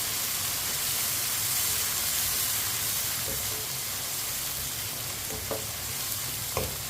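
Chopped tomatoes and green chillies frying in a pan for aloo gobhi, a steady, dense hiss and sizzle throughout, close and even, with a few faint clicks of a utensil near the end.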